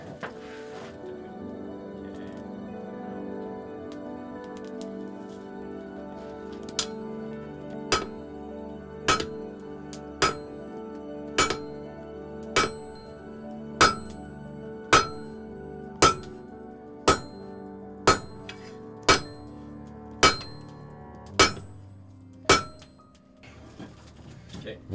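A hammer strikes steel on an anvil in a steady series of about fifteen ringing clangs, each blow loud and close, with a faint background drone beneath.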